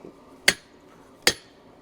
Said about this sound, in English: I'm just driving this drift through the